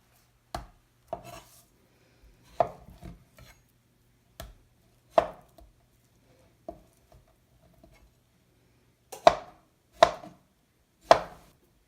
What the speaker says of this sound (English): I will cut them into chunks.